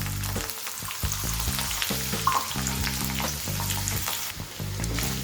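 Almonds and chopped coconut fry in a pan with a steady close sizzle, broken by regular stirring knocks and scrapes from a spoon throughout.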